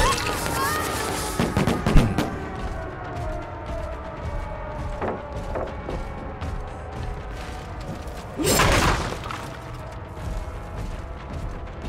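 A fireworks item going off in the horror game Dead by Daylight: crackling bursts and sharp pops with whistling tones, a louder burst near the end, mixed with mechanical game sounds.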